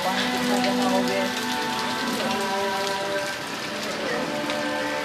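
Heavy rain pours steadily onto a flooded Karachi street, a dense, constant hiss of drops and splashing water with a faint tonal hum underneath and no clear speech.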